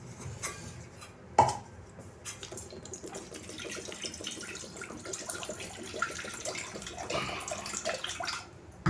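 Water splashes and trickles steadily into a cooking pot of turmeric-seasoned mor kulambu, with a sharper clank near the start and running liquid throughout, fairly close.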